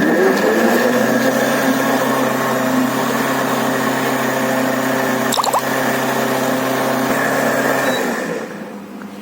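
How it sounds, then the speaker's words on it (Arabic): A steady, loud blender mixing coffee and milk for an iced caramel latte whirs with a constant motor hum for about eight seconds, then winds down and stops near the end. "هو كده تمام، ضربناه في الخلاط"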